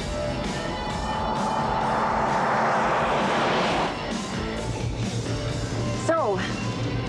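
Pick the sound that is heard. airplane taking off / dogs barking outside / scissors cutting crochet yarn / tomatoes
airplane taking off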